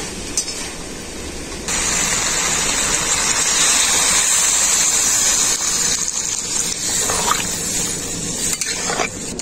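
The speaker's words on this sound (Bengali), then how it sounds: "এখন আমি এর মধ্যে পরিমাণ মতো জল দিয়ে দেব" Water gushes into a pan of spice-fried pui (Malabar spinach) flower vegetable cooked with dried fish, a loud sudden pour that runs steadily for several seconds, then a few stirring clinks; no speech.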